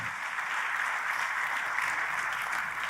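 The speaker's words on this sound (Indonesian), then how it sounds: "Tepuk tangannya yang paling meriah." Audience applause at an Indonesian church sermon, a steady wash of clapping heard fairly faintly and at a distance for a few seconds.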